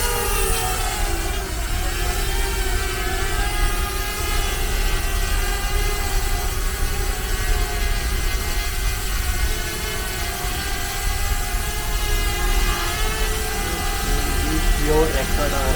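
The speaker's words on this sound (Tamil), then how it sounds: "இந்த 2 பட்டனும் இப்படி கீழே அமுக்கணும் அப்படின்னா ட்ரோன் ஸ்டார்ட் ஆகிடும்" A DJI Mini drone's propellers whine in a steady, loud, continuous buzz as it starts up and flies close by.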